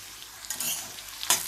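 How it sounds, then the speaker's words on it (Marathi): Thin bitter gourd slices stir-frying in a pan over low heat, a soft steady sizzle with brief scraping bursts from stirring, heard alone without talk. "चांगलं काप आपले पातळ असे परतून घेऊया"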